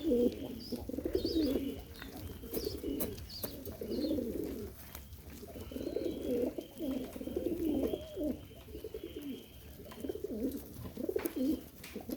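Pigeons coo repeatedly in low, throaty rolling phrases, close by, with some soft chirps and rustling in the background.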